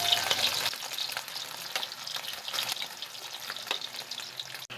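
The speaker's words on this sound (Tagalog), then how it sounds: "Ipiprito ko po siya para mag-brown ang kulay niya." Longganisa sausage fries in a pan with a steady, close crackling sizzle, joined by scraping stir sounds and occasional sharper pops, with no one talking.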